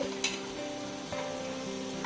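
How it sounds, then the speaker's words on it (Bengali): Food frying in a pan while chow is being prepared, a steady close hiss with a faint tonal hum from nearby equipment and a couple of brief clinks. "আর এখানে তো ভাজাভুজি চলছে"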